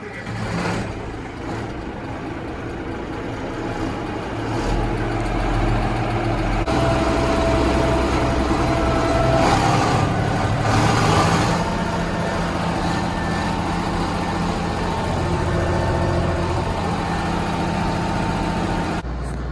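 The diesel engine of a John Deere 7520 tractor runs steadily and loud nearby as the tractor drives, a low rumble that rises in effort after a few seconds and holds there.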